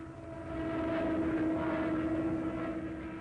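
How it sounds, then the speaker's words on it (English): A Stuka dive bomber flies over Belgium in 1940, heard as a steady, moderately distant engine drone with a sustained tone that swells and then holds. "Stukas over Belgium."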